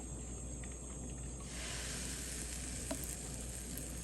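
Crepe batter frying in olive oil in a small frying pan gives a steady close sizzle and hiss that swells louder partway through, with a faint tap or stir near the end.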